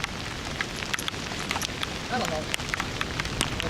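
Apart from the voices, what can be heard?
rain falling on people waiting outdoors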